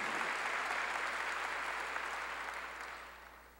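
Church congregation clapping together in a sustained, dense burst of applause that fills the space, then gradually fades toward the end.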